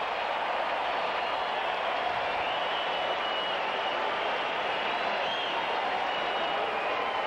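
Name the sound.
baseball crowd applauding, wanting a strikeout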